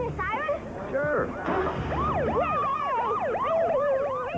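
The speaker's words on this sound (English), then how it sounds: "Can you turn on the siren?" An emergency siren wails with a rising and falling warble, loud and continuous, over road noise, with voices talking beneath it.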